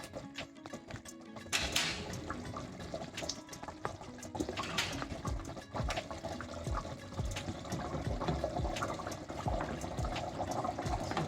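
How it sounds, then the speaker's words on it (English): Broad beans are dropped into a pot of potato curry bubbling at the boil, adding wet plops and splashes over a steady roiling simmer heard close up. "just going to drop in the broad beans"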